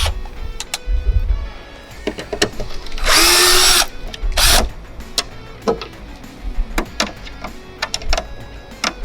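A power driver backs Phillips screws out of a Jeep Gladiator tail light, giving a few short whirring bursts amid scattered clicks and handling noises, close by and without talk.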